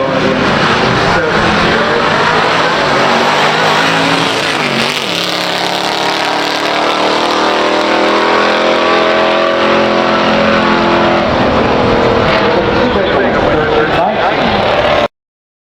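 Pure stock drag race between a 1967 Pontiac GTO and a 1963 Studebaker Lark R2 with a supercharged R2 engine, loud roaring engines accelerating hard down the strip with rising revs, heard close and continuous under a voice talking.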